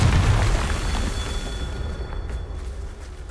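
A Confringo fire spell bursts in Hogwarts Legacy, a deep booming explosion up front that rolls into a fading rumble with faint crackling debris afterward.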